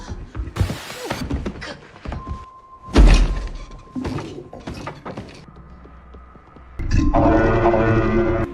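A cartoon door creaks open on its own in a house, with mechanical clunks, a heavy thunk, a sustained tonal creak and a final rising, rattling rumble, all as close, loud sound effects with no voices.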